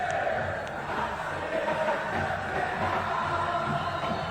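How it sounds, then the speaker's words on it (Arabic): Raja Casablanca football fans in the stadium: a dense, steady roar of massed chanting and cheering, continuous and slightly distant, with no breaks. "جمهور الرجاء لا يتعب من تشجيع هذا النادي العظيم صراحة"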